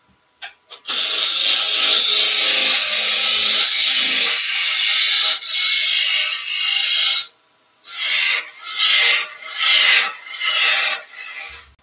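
A wood lathe spins a blank for a traditional German Reiterlein Christmas ornament at about 1600 rpm as a tool cuts it, giving a loud, continuous rasping scrape that halts briefly near the middle, then returns in several shorter bursts.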